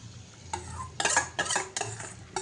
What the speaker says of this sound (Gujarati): તો હવે આને ત્યાં સુધી હલાવી જવાનું છે જ્યાં સુધી એ તેલ ના છોડે